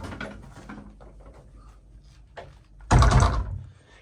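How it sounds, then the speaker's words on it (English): A door is pulled closed with a brief scuff and then a solid thump near the end, close and fairly loud against quiet room noise. "I'm going to pull the door shut just in case the wind is making a noise here."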